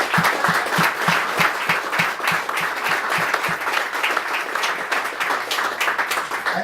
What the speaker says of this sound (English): please join me in a round of applause for Cynthia and all of her donators.